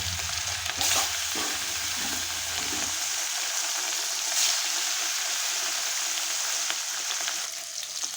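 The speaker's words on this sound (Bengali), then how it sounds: "এখন মাছগুলো আমি একটা একটা করে ভেজে নেব।" Pieces of catla fish sizzle in hot oil in a wok, a dense steady hiss throughout with a brief splash near the start and a low rumble that drops away early.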